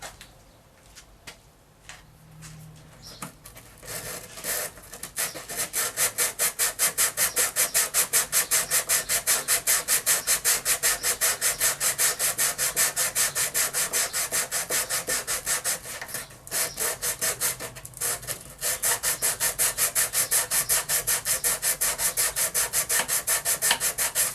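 Steady, rhythmic hand sanding of wood at a guitar's waist, close and loud, with quick back-and-forth strokes and a short pause partway through.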